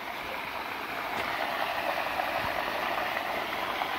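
Well water pouring out into a drain beside a cotton field, a steady broadband rush of flowing water that stays even and moderately loud throughout, with no voices.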